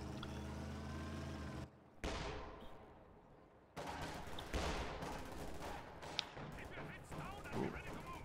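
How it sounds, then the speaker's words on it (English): An infantry gun and a 120mm mortar fire in the strategy game Company of Heroes 2, loud booming shots and rumbling blasts with short gaps between them, mixed with other battle noise. "The IG shooting and the 120mm mortar."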